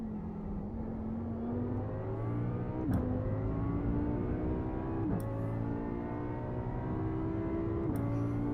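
A race car laps the Spa circuit during a wet practice session, its engine droning steadily with rising pitch through each gear and three sharp shift breaks, close and continuous with no talk.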